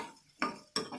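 A spoon scraping and stirring in a pan of hot oil while sautéing for a Tamil kurma, two close metallic scrapes against a faint sizzling background.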